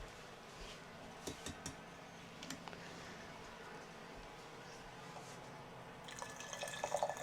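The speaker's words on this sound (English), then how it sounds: "I'm going to pour some cold water in my teapot" Cold water poured into a teapot, a quiet, steady watery trickle with faint drips and splashes that builds a little louder near the end, with no talking.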